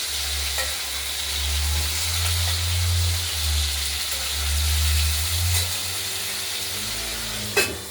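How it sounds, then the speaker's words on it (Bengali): Potatoes and tomato fry in a pan with a steady, close sizzle and a low rumbling undertone, broken by occasional stirring scrapes and a sharp knock near the end. "আলুগুলো ভাজা হতে থাকুক, দেখতে থাকুন।"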